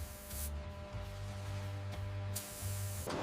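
A spray gun lays lacquer onto a Rolex watch dial in short hissing bursts, several separate puffs of spray over a low steady machine hum, with no talking.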